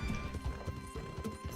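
Horse hooves clip-clop steadily on the ground in Red Dead Redemption 2, a brisk, fairly loud rhythm of thudding footfalls with a brief whinny mixed in.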